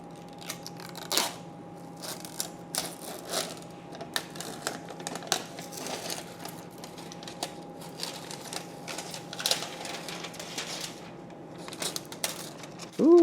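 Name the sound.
peeling protective plastic film off Asus ROG Astral RTX 5090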